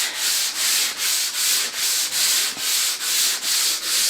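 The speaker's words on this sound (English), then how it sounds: "sanding it." Sanding of dried joint compound on a plaster recirculating hood vent, a steady rasping scrape repeating in even back-and-forth strokes about twice per second, close and loud with no talk.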